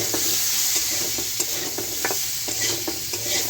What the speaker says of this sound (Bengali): আলু ভালো করে ভেজে নিয়ে